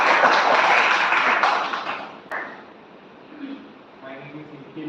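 Applause from a college audience greets a participant at a live event, a dense burst of many hands for about two seconds that then fades into scattered claps under voices.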